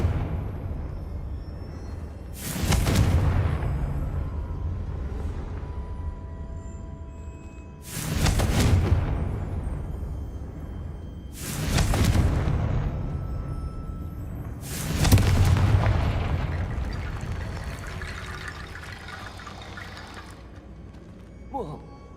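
Confringo blasting spells explode in Hogwarts Legacy, four booming, whooshing blasts spaced several seconds apart, each trailing off into a low rumble before the next.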